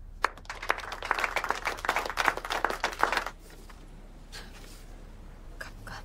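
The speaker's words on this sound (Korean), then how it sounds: "자, 다 같이 박수." A small group claps together for about three seconds, crisp close hand claps, then it falls quiet with only a few stray taps afterward.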